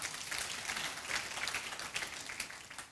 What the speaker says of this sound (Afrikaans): Kom ons klap vir jou hande.